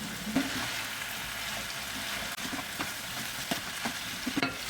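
Broccoli with spices fries in olive oil in a pan and is stirred, a steady sizzle broken by occasional scrapes and soft knocks, with no voices.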